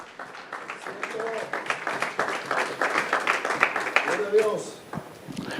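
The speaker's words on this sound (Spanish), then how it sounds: "Denle un fuerte aplauso a él, iglesia." A church congregation claps in a loud, sustained round of applause with scattered cheers, while a voice speaks over it.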